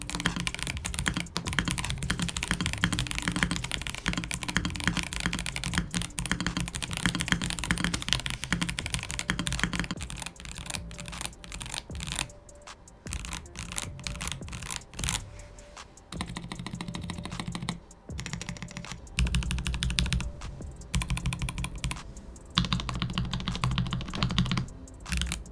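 Steady clacky typing on a Melgeek Mojo 84 mechanical keyboard, dense rapid keystrokes with brief pauses, close and fairly quiet, no voices.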